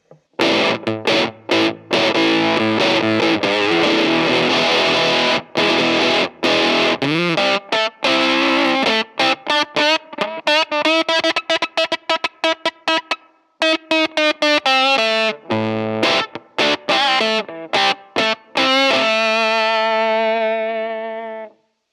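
An electric guitar through a germanium fuzz pedal plays choppy, sputtering notes that cut off abruptly, then sustains a thick, buzzy chord near the end.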